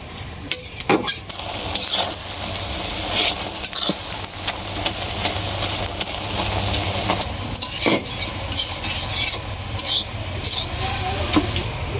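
Red amaranth greens cook in a pan, giving off their water with a steady sizzle and hiss, stirred now and then with clinking utensil scrapes, close and continuous.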